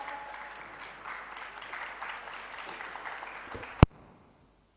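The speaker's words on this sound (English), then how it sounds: "A great applause" Audience applause at a physiotherapy conference, moderate clapping filling the hall that ends with a sharp knock or bump and then silence.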